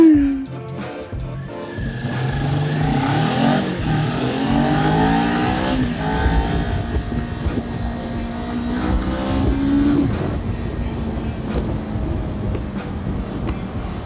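A car revs and drives past on a city street, a close engine drone rising and falling in pitch as it accelerates by, heard from a riding motorcycle amid road noise.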